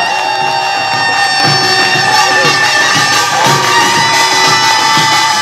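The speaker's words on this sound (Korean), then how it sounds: "멋진 퍼포먼스 함께 보여주고 있는 평택 종합고등부에게 힘찬 응원의 박수 부탁드리겠습니다." A festival crowd cheers and shouts for a high school nongak troupe from Pyeongtaek at a traditional Korean music festival in Yeongdong. The voices are loud and continuous over the troupe's ringing pitched instruments and pounding percussion.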